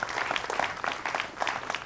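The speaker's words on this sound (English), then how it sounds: "Please give them a big round of applause" Audience applause at an annual chamber of commerce business showcase, a brief burst of moderately distant clapping from a crowd in a hall.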